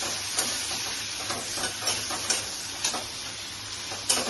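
Prawns fry in a pan for a Bengali prawn and pumpkin chutney, a close, steady sizzle broken by regular scraping stirs and light ticks.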